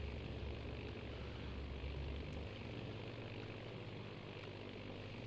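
Aircraft engines droning in the naval combat game World of Warships Legends, a steady, moderately loud propeller hum with a low rumble that stays continuous throughout, with no voices.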